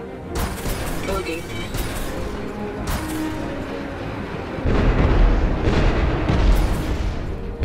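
Space combat in Star Citizen with a hostile ship blowing up, a deep rumbling explosion that swells partway through under game sounds and a spoken radio-style voice.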